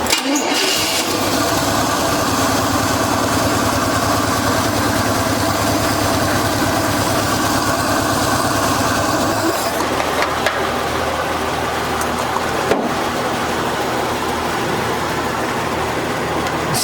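A neglected Chevy C10 squarebody pickup engine running on its first start: a loud, steady idle that rumbles on throughout, with a slight shift in tone partway through.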